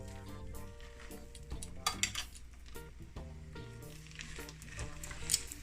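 Food laid into hot oil in a pan sizzles steadily, with a few sharp clinks of utensils against cookware and brief spikes of bright spattering, close and moderately loud with no talking.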